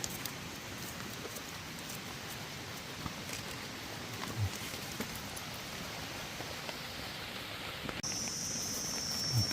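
Steady, dense hiss of rain falling, continuous for the whole stretch with no voices, brightening slightly toward the end.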